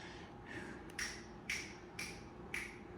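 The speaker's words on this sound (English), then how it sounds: "go down the line and just snap or clap over each mic" Finger snaps over the microphones of a marching band front ensemble during a line check, four sharp close snaps spaced about half a second apart over a faint steady background hum, no talk.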